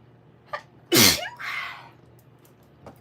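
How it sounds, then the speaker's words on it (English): A single loud human sneeze with a short breathy inhale before it and a trailing exhale, close and clear against a quiet room. "I'm going to sneeze."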